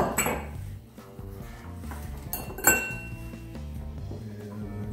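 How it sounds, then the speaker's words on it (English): Ice cubes clink and clatter into a glass for an Old Fashioned cocktail in a few close, bright knocks, with a lingering glassy ring. "Put the ice cubes in."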